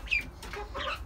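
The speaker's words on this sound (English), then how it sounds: "chickens are like literally like trying to take the food" Chickens cluck in a short, soft burst while grabbing at food scraps such as cucumber tossed to them, the birds close by with no voices over them.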